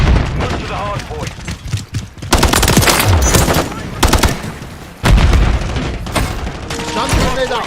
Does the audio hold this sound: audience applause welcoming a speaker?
no